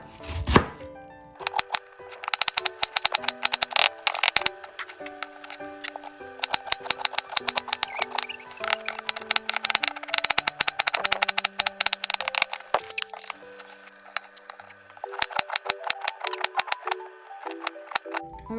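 A knife chops cabbage and other vegetables on a cutting board in a home kitchen. Rapid, sharp, close knocks come in long bursts, with short pauses between runs.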